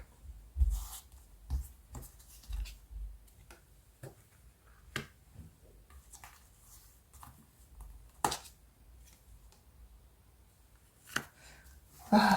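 Tarot cards are shuffled, tapped and laid out on a table in a steady run of soft flicks, slaps and rubs, close and fairly quiet, with occasional sharper snaps and a voice faintly present.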